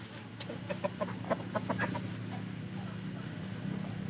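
A young Thai Pa Koi rooster, seven to eight months old with a long tail, gives a quick series of soft clucks over outdoor background noise, then falls quiet.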